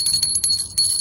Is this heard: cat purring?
no